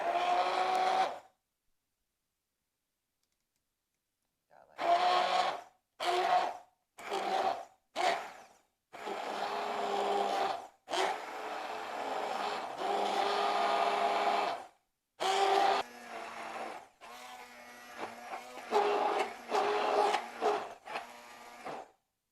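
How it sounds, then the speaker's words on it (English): Immersion blender whirring in bursts while blending an oil-free vegan dressing, starting and stopping repeatedly with short pulses and longer runs, close and fairly loud with no talking. "Take your immersion blender."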